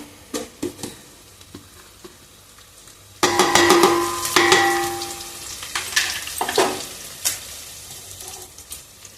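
Whole spices, cinnamon, cloves, mace, cumin and black cumin, drop into hot oil for chicken biryani, setting off a loud, close burst of sizzling and frying after a few light clinks, fading slowly.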